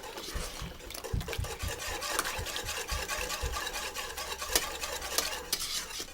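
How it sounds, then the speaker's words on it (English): A utensil stirs sauce around a pan on the heat in a steady, busy rhythm of scraping and clicking, with a soft sizzle underneath, close up and continuous for several seconds. "you got to really mix it around"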